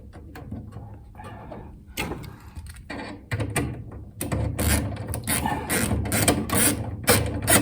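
A ratchet wrench tightens an M8 nut down over a flat washer and spring washer onto a battery's negative post during a Dutch barge installation, giving quick runs of close, dry metallic clicks with brief pauses between strokes.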